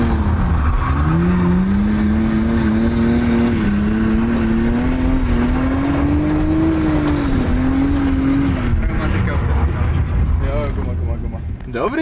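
A drift car's engine revs hard during a drift test, a loud, close, sustained roar whose pitch climbs and dips while the throttle is held, then tails off at the end.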